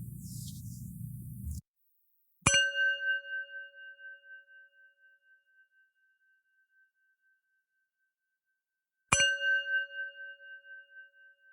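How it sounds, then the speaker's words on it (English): Two bright chime strikes, several seconds apart, each ringing out and slowly fading in otherwise near silence. "The show will begin after the following chimes."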